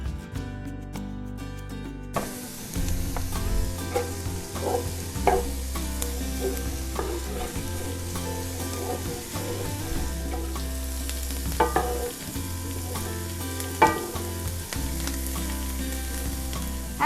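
Onions and carrots sizzle and fry in a pan over medium heat, with steady crackling and occasional scrapes and clinks of stirring; a low background hum runs underneath, and no one speaks.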